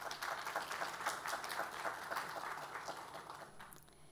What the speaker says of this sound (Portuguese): Gostaria de pedir uma salva de palmas às nossas tradutoras mais que